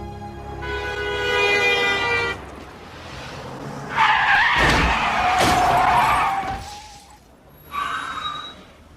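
Cars speed past in a film scene with loud tire skids: a screeching burst at the start, a long sustained squeal mid-scene, then a shorter skid near the end.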